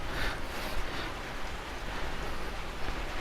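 Rain falls steadily outdoors over malt covered up during a smoked-beer brewing session, a soft, even hiss without pauses and no voices.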